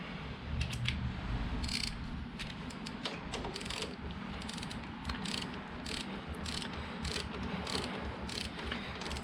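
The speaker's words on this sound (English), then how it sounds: "now we're going to torque that to 18" A torque wrench ratchets steadily while tightening a suspension bolt on an Indian Challenger motorcycle, giving a continuous run of rapid metallic clicks with brief pauses, close and moderately loud over a low workshop rumble.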